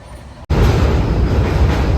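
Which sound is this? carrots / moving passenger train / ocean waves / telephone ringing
moving passenger train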